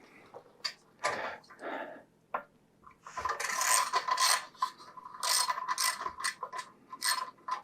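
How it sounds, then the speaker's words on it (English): Bolts on an exhaust support bracket of a Royal Enfield Himalayan are loosened with a ratchet, giving quick clicking bursts, then longer runs of rapid ratcheting and metallic rattles close by, with short quiet gaps between them. "I'm just going to go ahead and pull the support bracket off there"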